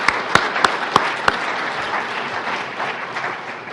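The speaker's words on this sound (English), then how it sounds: "Let's give him another round of applause." An audience at an environmental data summit applauds in a steady, dense wash of clapping. A few sharp, louder claps stand out near the start.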